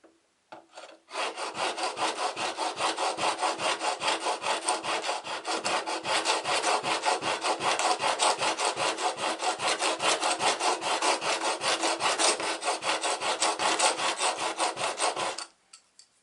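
A chisel is sharpened on a stone with steady back-and-forth passes, about thirty rhythmic rasping strokes in an even, close, loud sequence with no talking.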